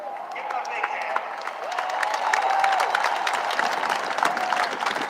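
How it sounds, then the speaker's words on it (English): Audience applause for a gold medal team at a rally, a crowd clapping and cheering steadily, swelling midway, with a voice heard over it. "Give them a big hand."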